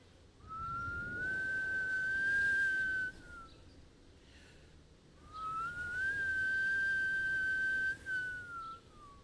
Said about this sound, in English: And Amu started to hear whistling.